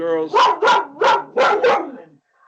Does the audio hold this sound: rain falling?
no